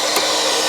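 A vacuum cleaner runs steadily and loudly while cleaning the interior of an 80s Ford Mustang GT 5.0 barn-find car, giving a constant broadband whoosh throughout.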